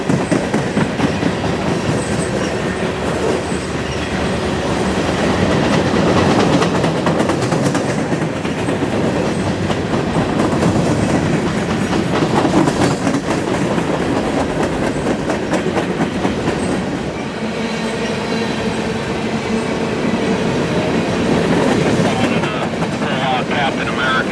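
A long Norfolk Southern manifest freight train rolls past close by in Alliance, Ohio, wheels clattering steadily over rail joints with rumbling and occasional metallic squeals throughout.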